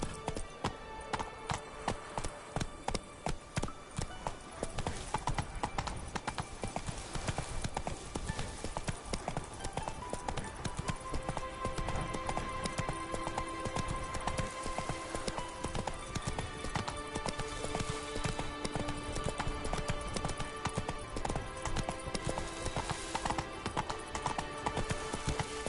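Hooves clip-clop in a fast, steady gallop as a horse runs in The Witcher 3 on PS4, a dense rhythmic drumming that carries on throughout at close range.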